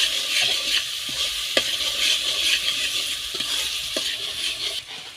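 Chillies, garlic and chopped tomatoes cook in a pan with a steady close sizzle and occasional stirring clicks and scrapes, continuous and fairly loud, no voices.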